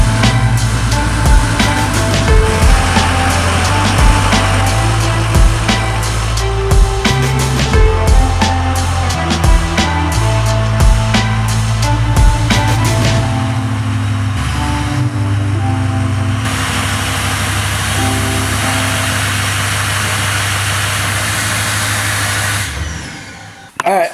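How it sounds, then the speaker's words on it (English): A white 6.0 Powerstroke diesel pickup rumbles as it is pulled into a home garage. Its engine drone and idle run loud and close, with scattered clicks and knocks, then the motor cuts off near the end. "We're gonna pull the truck in"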